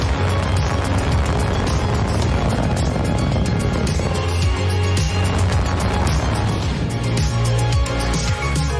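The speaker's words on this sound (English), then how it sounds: "Ignition. Liftoff. Falcon 9 has cleared the tower." A SpaceX Falcon 9 rocket lifts off at the GPS III-4 launch, a loud, sustained broadband roar that rumbles continuously throughout with no pause.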